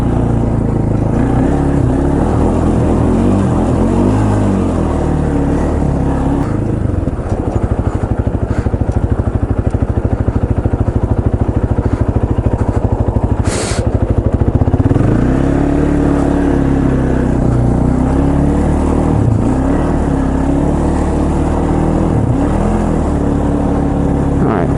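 A 2005 Polaris Predator ATV, freshly fitted with a new head gasket and valves, drones loudly and steadily up close while being ridden, its engine pitch rising and falling through gear changes and throttle swells.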